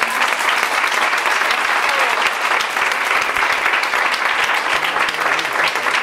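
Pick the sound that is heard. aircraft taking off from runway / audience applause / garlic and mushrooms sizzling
audience applause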